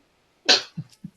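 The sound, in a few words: sneeze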